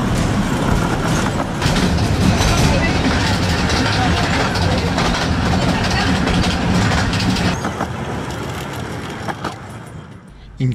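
A Romney, Hythe and Dymchurch Railway miniature train rolls through marshland at about 20 km/h, giving a loud, steady rumble with rhythmic clickety-clack of wheels on rail joints, close and continuous, easing slightly toward the end.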